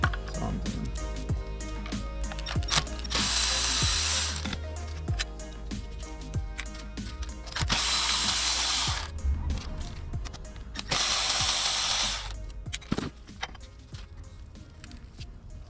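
An open-end wrench works a transmission bolt loose: close, continuous metallic clicks and taps, broken by three bursts of harsh scraping about four seconds apart.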